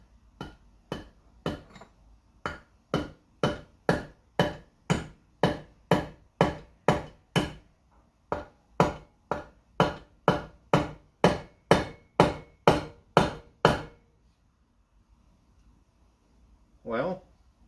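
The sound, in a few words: hammer tapping extractor into broken exhaust manifold bolt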